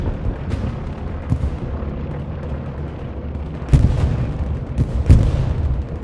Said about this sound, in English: As long as that artillery from 20th EXD stays up, they're going to be in this game.